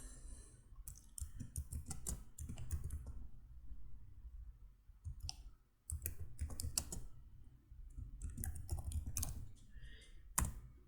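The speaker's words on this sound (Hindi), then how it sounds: "अब यहाँ पे कुछ टाइप करते हैं।" Quick, light key clicks from someone typing text into an Excel spreadsheet, coming in short irregular bursts with brief pauses between them, close by and fairly quiet.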